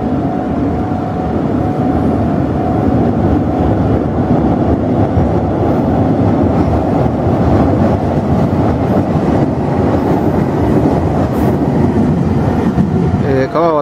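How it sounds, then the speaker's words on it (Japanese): Meitetsu Inuyama Line train crossing the century-old, three-arch Inuyama Bridge over the river between Aichi and Gifu, a loud, steady rumble and roar of wheels on the span that stays constant throughout with no pauses. "列車が来ました。"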